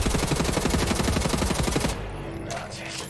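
Rapid automatic gunfire in Wolfenstein: The New Order, loud and close, a steady rattling stream of shots for about two seconds, then cutting off into quieter game ambience with a few faint echoes.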